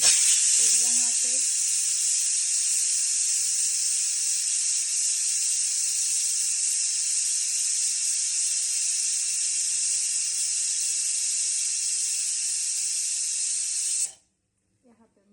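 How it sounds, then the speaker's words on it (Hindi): A pressure cooker boiling chicken lets out a long, steady, loud hissing steam whistle that holds for about fourteen seconds before cutting off abruptly. "कुकर की सीटी बज रही है"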